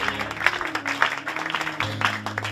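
A church congregation claps and cheers in praise, a short burst of uneven applause from a crowd with voices mixed in.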